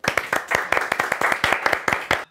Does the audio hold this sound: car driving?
no